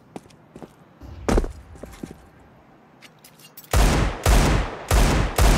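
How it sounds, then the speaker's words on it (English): Desert Eagle and AK rifle gunfire in Counter-Strike 2 on the Nuke map during a pro match: scattered single shots and footsteps, then loud, heavy back-to-back bursts of close rifle fire. "Somebody hits a double deagle, grabs an AK, and things get wild."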